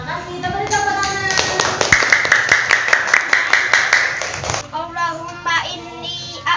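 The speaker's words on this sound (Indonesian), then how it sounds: "Kita beri tepuk tangan." Children in a classroom clapping together in a rhythmic patterned applause, quick repeated claps over excited young voices, then settling into chatter.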